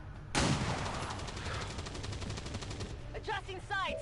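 A pistol shot in XCOM 2 fires with a sharp, loud crack, then a rattling echo and game effects ring on, and near the end a voice speaks briefly over them.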